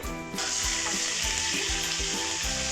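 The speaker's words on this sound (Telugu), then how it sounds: "కరివేపాకు ఆనియన్ రెండు వేసేసుకుంటున్నాము దీంతో పాటు కూడా అల్లం వేసేసుకున్నాం" Curry leaves, onion and ginger fry in hot oil with a loud, steady sizzle, broken by a few soft rhythmic stirring scrapes.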